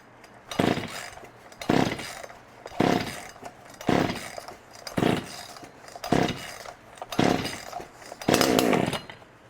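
A Poulan Pro 4620 chainsaw is pull-started over and over, giving eight evenly spaced rasping bursts of the starter cord, each about a second apart, loud and close, with the engine never catching.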